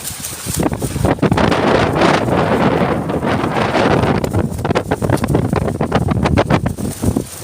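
Strong wind at sea roars and buffets continuously across the microphone at a milkfish (bangus) fishing site, with rushing gusts and faint rattling, no voices.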